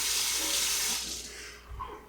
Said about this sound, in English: Then you rinse the spoon.